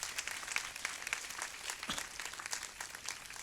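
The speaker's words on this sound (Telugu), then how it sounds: "కాబట్టి వీరందరికీ గట్టిగా చప్పట్లు కొడదాం" Scattered clapping from a church congregation at a Christian festival gathering, moderately dense but faint and distant, with individual claps poking through an uneven rhythm.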